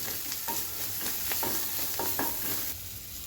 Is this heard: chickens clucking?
no